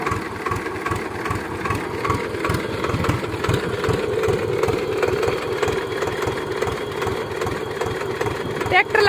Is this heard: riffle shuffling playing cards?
no